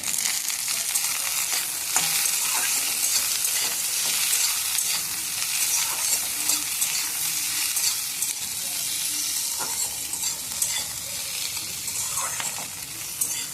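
Tomatoes go into capsicum already frying in a pan for paneer butter masala, giving a loud, continuous bright sizzle with scattered stirring scrapes throughout, and no talking.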